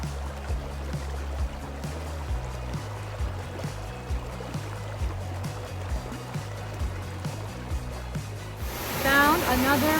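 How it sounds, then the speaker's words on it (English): A small waterfall pours into a hot spring grotto as a constant broadband rush of water, close and steady, with a low rumbling undertone and a louder splashing surge near the end. "Found another waterfall."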